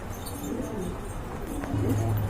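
A pair of Black Danish pigeons coo in low, steady murmurs, fairly close and continuous, with a deeper coo swelling near the end and no talk over it.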